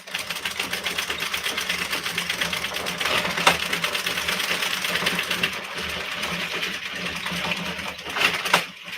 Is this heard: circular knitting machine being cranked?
yes